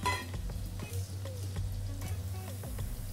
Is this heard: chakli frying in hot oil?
yes